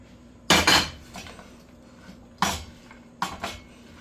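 A utensil mixing dough and egg in a bowl, several sharp clinking knocks against the bowl in short bursts separated by quiet pauses, no voices.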